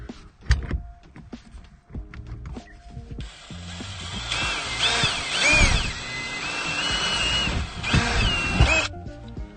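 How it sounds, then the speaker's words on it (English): A power drill boring holes for a dash mount in a 5th-gen Toyota, first in short bursts, then a sustained high whine running for several seconds before cutting off, close and fairly loud. "we've drilled all of our holes we need to"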